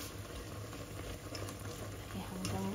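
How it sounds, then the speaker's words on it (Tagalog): Pork intestines for dinuguan boil in a pot with a steady, close bubbling and sizzling hiss that stays constant throughout, with no speech over it. "Ayan guys, kumukulo na."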